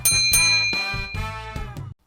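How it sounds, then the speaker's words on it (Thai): A bright notification-style bell ding sound effect, several rapid ringing strikes in a row, clear and loud with no voice over it. "กดกระดิ่งด้วยนะครับ"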